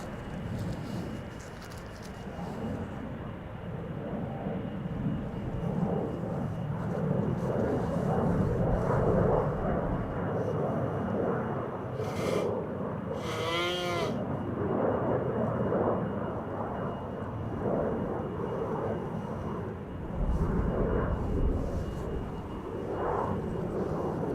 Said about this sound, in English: KLM flight 733 to Curaçao, Willemstad. 777-200 PHBQN.